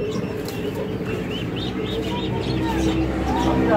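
Pigeons in a bird shop coo softly amid scattered chirps from other caged birds, a continuous busy backdrop beneath people talking.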